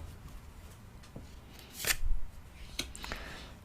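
Tarot cards are shuffled and drawn in a quiet room: a few soft, brief riffling and sliding bursts, the loudest in the middle.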